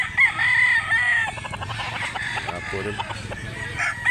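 Roosters crow at a chicken market in Mantalungon, Barili, Cebu, with a clear nearby crow near the start and more crowing and clucking through the busy scene, while someone speaks over it.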